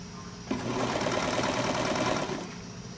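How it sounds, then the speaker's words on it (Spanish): An overlock sewing machine stitches a waist dart on a blouse. It starts abruptly and runs as a steady, close, buzzing whir for about two seconds, then stops, with no talking. "esta pinza de aquí de la cintura lo voy a cerrar con overlock"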